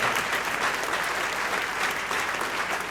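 A church congregation applauds during worship, steady, dense clapping from many hands filling the room without pause.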